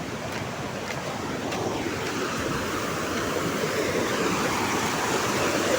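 A swollen river in flood rushing by, a broad continuous roar of moving water that fills the scene at a steady level, close and unbroken from start to finish.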